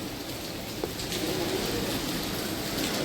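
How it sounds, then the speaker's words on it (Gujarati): Steady monsoon rain falls as an even, continuous hiss that fills the scene, with a bird calling faintly in the background. "વરસાદ આવે છે."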